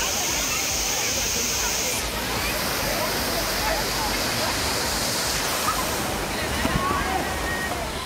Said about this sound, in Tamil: கோவை குற்றாலம் திறக்கப்பட்டதால் சுற்றுலாப் பயணிகள் அருவியில் குளித்து மகிழ்ந்தனர்